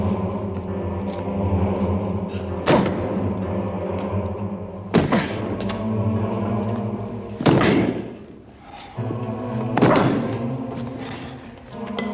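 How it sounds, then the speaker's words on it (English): A locked study door in an English country house is broken open. Four heavy thuds land at roughly even intervals, close and loud, over a steady musical background. "This door must be broken open immediately."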